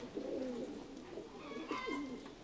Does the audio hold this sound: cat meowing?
no